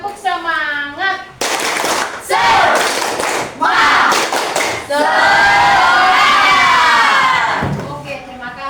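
A group of children claps loudly and rhythmically in spirit-clapping rounds in a classroom, the bursts broken up by a teacher speaking and the kids calling out.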